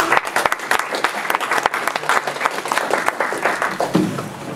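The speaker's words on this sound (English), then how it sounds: "So a big round of applause for John." An audience at a politics and humor event claps enthusiastically, a lively rapid patter of many hands, loud and close, with a voice faintly heard near the end.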